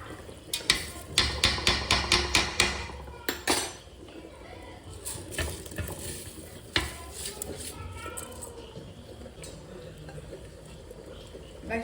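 Utensils scrape and clatter against a cooking pot as rice is stirred into biryani, with a run of sharp metallic knocks early on, then softer, steady mixing and scraping close by.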